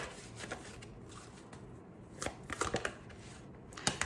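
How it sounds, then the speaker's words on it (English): Tarot cards are shuffled by hand in a quiet room, giving soft, irregular papery riffles and taps that build into a cluster of sharper clicks toward the end. "I'm still gonna shuffle."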